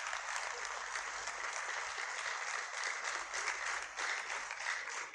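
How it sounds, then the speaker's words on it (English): Sustained clapping from an audience at a university inaugural lecture, a continuous, fairly distant wash of many hands that swells slightly in places. "I can understand why the clapping has to last that long."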